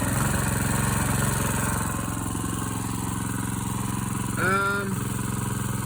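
A small engine being warmed up before snow holds a steady full-throttle drone, close and continuous, with a brief rising whine near the end.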